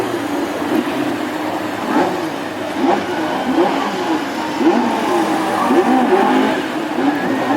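Classic hot rod race car spinning celebratory donuts at a Hednesford oval final, engine revving in repeated surges over steady loud drive noise, with tyres scrubbing as it circles.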